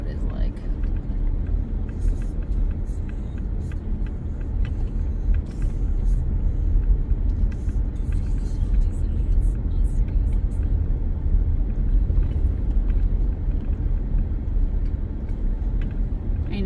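A car travels over a rough, bumpy road near Kodachrome Basin State Park, giving a steady loud rumble with rattles and jolts throughout, heard from inside the cabin with no talking.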